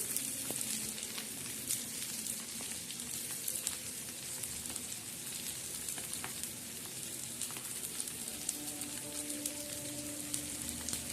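Peanut chutney with green chillies and garlic frying crisply in a pan, a steady close crackling sizzle with small pops that keeps on evenly throughout.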